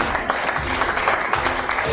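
A crowd at a political rally claps continuously in dense, steady applause that fills the space without pause.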